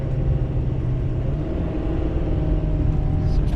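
Heavy, steady low rumble of a tuned Ford Powerstroke diesel pickup towing over 30,000 lbs up a mountain grade, engine droning under load close by, with a voice talking over it.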